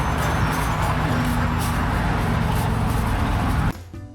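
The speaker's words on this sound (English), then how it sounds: "I don't miss the sound of traffic at all." Steady roar of road traffic, dense broadband rumble of passing vehicles near Ladysmith Harbour, that drops off abruptly near the end.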